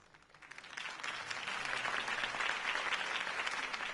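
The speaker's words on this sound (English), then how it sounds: "could have heard that applause" Video game crowd applause swells quickly and holds steady as a dense wash of clapping, heard at a moderate distance.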